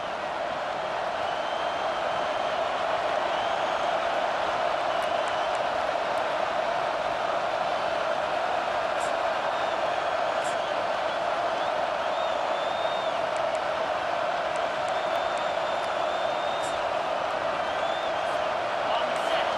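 Home crowd noise in EA Sports College Football 25 during a late first-half third down, a steady, loud stadium roar sustained throughout with faint whoops rising above it.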